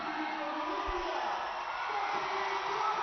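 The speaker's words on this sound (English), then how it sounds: "the roar you'll hear now is for the gold medal and winner, Shashi Chopra from India" A boxing arena crowd at a women's youth world championship final roars steadily for the gold medal winner, a broad sustained wash of cheering without distinct peaks, heard from a distance.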